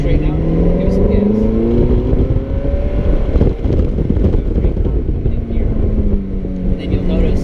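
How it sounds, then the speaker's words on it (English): Ferrari sports car engine on a track, heard from inside with a steady loud drone whose pitch climbs and falls as it accelerates, with wind buffeting throughout. "as you straighten out, give it some gas"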